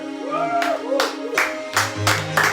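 A church congregation claps in strong rhythmic bursts, about one clap every half second, with voices ringing underneath as people acclaim during worship.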